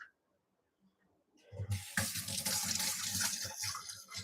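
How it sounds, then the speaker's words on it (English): A bathroom tap runs at full flow while hands are washed beneath it, a steady broadband splash starting abruptly after a quiet opening and continuing loud to the end. "Let me wash my hands quick."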